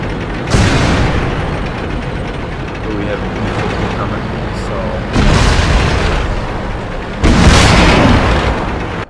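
Artillery shells exploding in World of Tanks Classic, old-school version: three heavy booming blasts spaced a few seconds apart over a rumbling engine bed, with a voice talking between them.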